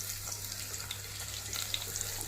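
Vadagam frying in hot oil in a pan, a steady broadband sizzle that holds evenly from start to finish with small crackling pops, close by and fairly quiet, with no voices.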